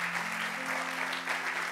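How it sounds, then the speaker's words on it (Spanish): A church congregation applauds during a pastor's sermon, a dense, steady wash of clapping with a low hum beneath it. "quiero pedirte que le demos el mejor de los aplausos a nuestro Dios"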